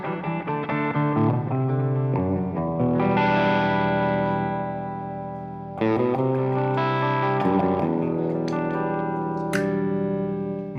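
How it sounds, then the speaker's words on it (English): Electric guitar played through a distortion effect, sustained chords and notes ringing out with thick gain and some modulation, loud and alone with no talking. "My test for a good distortion sound is always like how well it cleans up."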